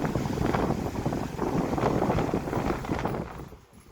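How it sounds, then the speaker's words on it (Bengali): A loud, steady rushing whoosh of air from a fast-spinning Sony high-speed electric fan, close by, with no vibration or extra noise, fading out near the end; no voices. "সাউন্ডটা শুধুমাত্র বাতাসের সাউন্ড, কোনো ভাইব্রেট নাই, এক্সট্রা কোনো সাউন্ড নাই।"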